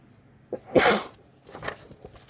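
A single sharp sneeze bursts out near the microphone, preceded by a short intake and followed by faint rustling.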